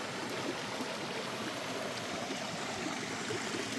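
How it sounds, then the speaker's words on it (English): A distant waterfall pours steadily into a pool beside a trail, giving a constant broadband rush of flowing water with no pauses or talk. "that looks like a waterfall"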